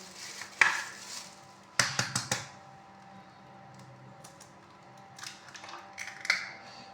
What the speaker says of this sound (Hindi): नमक मिर्च को मैं मिक्स कर लूँगी इसके अंदर अच्छी तरह से।